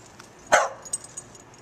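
A single sharp dog bark rings out, followed by a few faint softer sounds in a quiet room.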